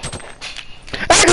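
A metallic clang as a grenade hits the ground in the video game Fortnite, followed by a sharp burst of harsh noise, loud and close.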